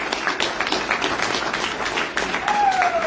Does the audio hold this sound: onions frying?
no